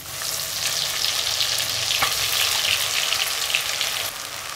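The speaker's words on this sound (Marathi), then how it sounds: "आता याच तेलामध्ये वाटलेला मसाला घालू" Ground masala paste fries in hot oil left over from frying eggs, a loud, dense, crackling sizzle that holds steady throughout and eases slightly near the end, with no voices.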